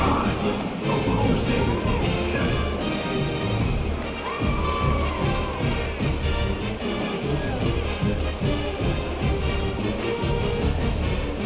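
Simulated stadium crowd in EA College Football, Cincinnati at Oklahoma State, a dense continuous roar and murmur of many voices with scattered shouts and whistles, steady throughout with no clear commentary on top.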